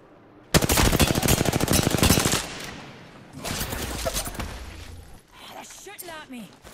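Gunfire in Apex Legends: a long, dense run of rapid automatic shots, loud and close, then a second shorter burst of fire, with voices talking over the later part.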